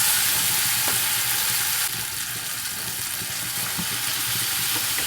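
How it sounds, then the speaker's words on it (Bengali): Chicken is added to cooked spice paste in a pan, producing a loud, steady frying sizzle with faint stirring clatter, the hiss dropping slightly partway through and continuing alone without speech. "এবারে চিকেন দিয়ে দেবো আমি।"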